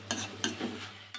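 Food for egg bhurji is mashed in a pan, with three sharp scraping strokes over a soft sizzle, close and fairly loud.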